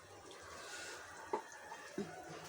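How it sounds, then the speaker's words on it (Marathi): A little water is poured onto a pan lid to steam ivy gourd (tondli) cooking beneath: a quiet, low hiss with two brief, soft splashes close by, no talking. "झाकणावर पाणी टाकते थोडंसं पाणी टाकायचं जास्त टाकायचं नाही"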